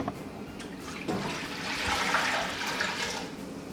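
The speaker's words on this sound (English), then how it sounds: "Let's pour in the water." Water pours steadily into a cooking pot for crispy pata made with a pork leg, a continuous close splashing gush that builds slightly in the middle, with no talking.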